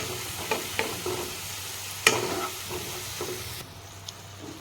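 Chana masala being stirred and fried in oil in a pan, a soft continuous sizzle punctuated by occasional scraping clicks of a spoon against the pan, close and fairly quiet, with no voices.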